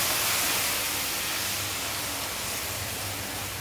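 Boiling water poured into a hot pan of roasted bhagar sends up a loud, close, broadband rush of hissing steam, strongest at the start and easing only slightly, with no voices.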